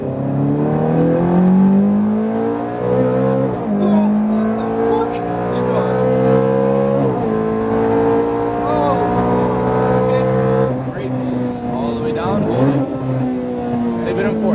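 Ferrari F430 on a race track under full throttle, its engine note climbing steadily through the gears with brief dips at upshifts, loud and close from onboard, with an instructor's voice talking over the engine throughout.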